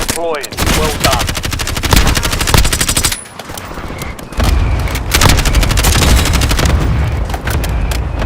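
Rapid automatic gunfire and single rifle shots from Call of Duty Warzone, loud and close with dense bursts, a brief lull, then more sustained firing, game voice lines faintly mixed in.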